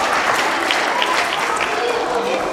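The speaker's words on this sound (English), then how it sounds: "Give them a round of applause." Steady applause from an audience at a primary school event, a dense wash of clapping that holds evenly throughout.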